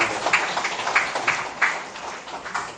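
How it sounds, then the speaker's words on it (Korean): Scattered applause from a lecture audience, a steady patter of clapping with a few louder bursts, rising then slowly fading. "박수 치시죠"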